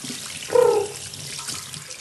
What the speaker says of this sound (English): So this is my wife's iPhone X, which I am going to wash it.